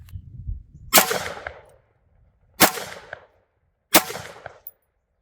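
Three sharp, loud gunshots are fired at a target through a budget red dot sight, spaced roughly a second and a half apart. Each shot rings out with a short echoing decay, and faint rumbling comes before the first.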